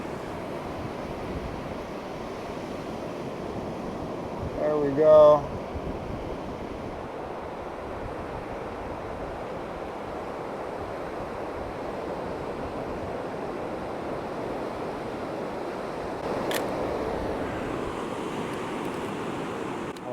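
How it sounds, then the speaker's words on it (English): Ocean surf rolls and breaks steadily on Fazayat Beach, a continuous wash of wave noise with some wind across the microphone, and a person speaks briefly partway through. "Just want the waves to settle a little bit."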